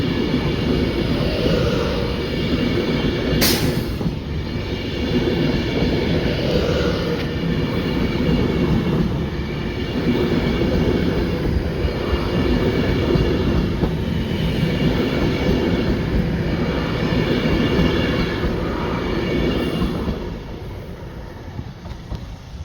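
A train bound for Wolverhampton rumbles through the Noose Lane level crossing, a loud, steady roar of wheels and carriages lasting throughout, with a brief sharp clank early on and faint squeals.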